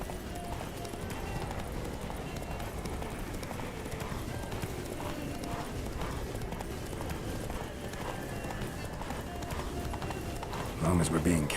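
Roach the horse gallops in The Witcher 3, with rapid rhythmic clip-clop hoofbeats throughout, mixed under ongoing conversation and game ambience.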